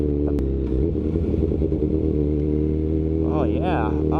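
A vehicle's exhaust rumbles loud and steady as it passes close by, with a rising engine note near the end, recorded on an action camera with a voice talking over it.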